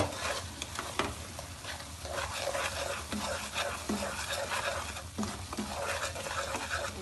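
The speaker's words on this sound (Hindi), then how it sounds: "और अब इसमें शीरा डालने लगी हूँ। चूल्हा बिल्कुल मेरा लो फ्लेम पे है।" Sugar syrup poured into semolina halwa cooking in a pan over a low flame, a steady close bubbling sizzle with stirring scrapes and clatter, no speech.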